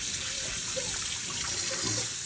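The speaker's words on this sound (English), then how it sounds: "I'll rinse it off just so it doesn't drip everywhere." Tap water runs steadily into a sink, rinsing a milk filter after milking the family cow, a continuous close splashing hiss with no talk.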